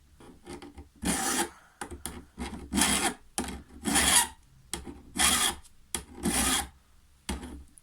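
Long, steady file strokes sharpen the teeth of a hedge trimmer blade, seven or eight loud rasping passes in a regular rhythm with short pauses between them, close up and without talk.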